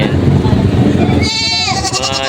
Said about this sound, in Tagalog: Mga native na kambing.